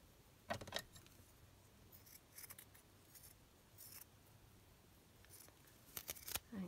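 Scissors snip through a printed book page in short bursts, several sharp cuts spread across a quiet stretch, close and crisp, with faint paper rustling between them.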